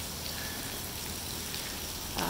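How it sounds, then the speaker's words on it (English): Heavy rain pouring steadily in the Uprise 2019 game, a dense, loud hiss of falling water with no pauses and no talk over it. "it's raining very hard here"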